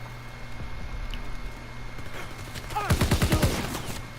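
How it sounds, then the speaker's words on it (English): A rapid burst of MP40 submachine-gun fire from the Call of Duty WWII video game rattles out near the end after quieter in-game ambience, a fast run of sharp shots at moderate volume. "He just fired a second shot, and he just got lit up by a dude with the MP40"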